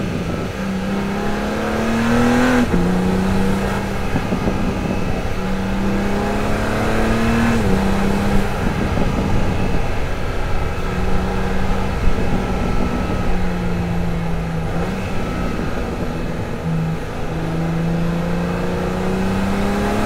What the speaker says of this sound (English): it's a classic sort of BMW M straight six sound